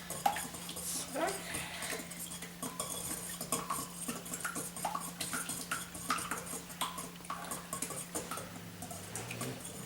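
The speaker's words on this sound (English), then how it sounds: "Now we're going to stir what we have so far. Stir pretty thoroughly." Spoon stirring ingredients in a bowl for a baking batter, steady close clinking and scraping against the bowl with light tapping throughout.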